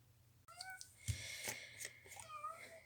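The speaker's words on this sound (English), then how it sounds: "You're probably going to hear my cat a lot because there's a bird on the wall" A house cat watching a bird on the wall meows in a few short, rising chirps and trills, fairly faint, close by, and heard without talk.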